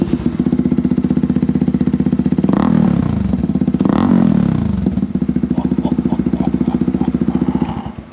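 A motorbike engine runs loud and close in Thailand, with a steady rapid idle pulse and two brief throttle blips that swell the sound before it settles back to a throbbing idle.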